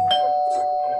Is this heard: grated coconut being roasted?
no